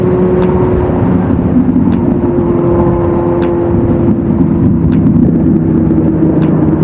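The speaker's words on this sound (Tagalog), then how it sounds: "Konting piga mo lang doon sa throttle, sumisibat na eh" A 1000cc motorcycle accelerating under throttle on a rough road, with a steady loud engine drone and road rumble running throughout and sharp clicks or ticks recurring at regular intervals.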